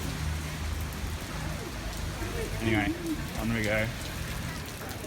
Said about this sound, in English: Jeez, the rain.